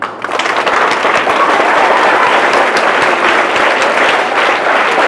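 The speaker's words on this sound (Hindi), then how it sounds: "सीए के हस्ताक्षर के लिए एक बार जोरदार तालियां" Loud, dense applause from a large audience at an ICAI event promoting the Chartered Accountant course fills the whole stretch as a steady roar of many hands clapping, with no voices over it.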